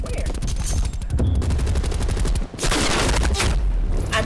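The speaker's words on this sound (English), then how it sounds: "Hold on, somebody shooting from where?" Heavy gunfire from Call of Duty Black Ops Cold War alpha on PS4: dense automatic bursts and shots fill the scene, pausing briefly around the middle before loud firing returns, with a player's voice underneath.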